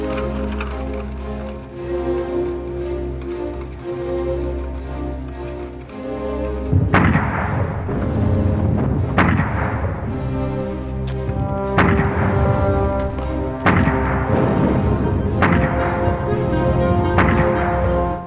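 Artillery cannon fire from the Battle of Verdun booms repeatedly, loud heavy blasts every couple of seconds over a droning, musical-sounding rumble, each shot trailing off in a long echo.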